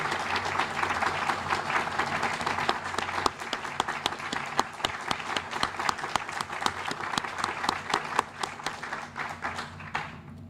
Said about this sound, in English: let's give them a huge round of applause for all of their efforts